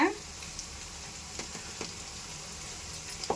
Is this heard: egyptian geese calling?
no